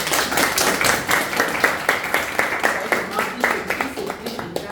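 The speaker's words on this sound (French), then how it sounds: "Donc déjà, on applaudit pour le docteur." Audience at a university science faculty in Cameroon clapping in unison, a loud rhythmic series of sharp, evenly spaced claps sustained throughout, with some voices mixed in.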